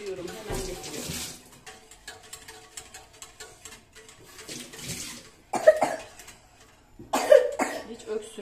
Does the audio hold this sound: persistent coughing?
yes